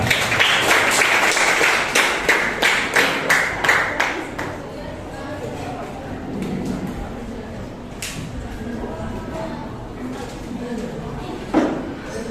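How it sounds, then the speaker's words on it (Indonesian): Classroom students clapping for a group coming forward, a burst of quick rhythmic claps for about four seconds that then stops, leaving quiet room noise, shuffling and a few scattered taps. "Yang lain kasih tepuk tangan ya."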